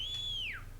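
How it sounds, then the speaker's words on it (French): A single clear human whistle, a sustained tone that glides downward at the end, short and fairly close over quiet low background hum, during a gaming session of Cuisine Royale. "Oui, t'as sifflé."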